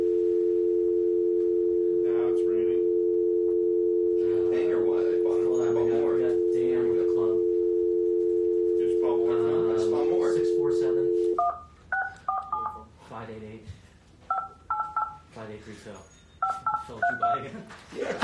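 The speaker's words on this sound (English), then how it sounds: "I'm calling you. Phone number, go." A telephone line hums with a steady dial tone for several seconds, then it cuts off and a quick series of touch-tone dialing beeps follows, with someone talking over much of it.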